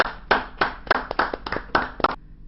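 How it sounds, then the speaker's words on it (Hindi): An audience at a televised Hindi poetry recital claps in a short burst. There are several distinct sharp claps in quick, slightly uneven rhythm, then it stops abruptly. It sounds close and fairly sparse, with no talking. "आप एक बार जोरदार तालियां बजाइए।"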